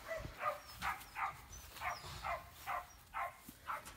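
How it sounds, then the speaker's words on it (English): A small puppy gives a quick series of short, high yips and barks, fairly faint, repeating in a rapid irregular rhythm. "that puppy barking in her ear"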